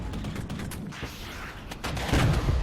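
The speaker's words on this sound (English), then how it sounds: "All right, BMP-2s are firing." BMP-2 infantry fighting vehicles open fire in a Cold War real-time strategy game, a rolling series of muffled gunshots and distant booms that swells louder toward the end, with no one speaking.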